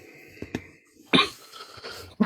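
A few short, sharp coughs close up, separated by quiet breathing pauses.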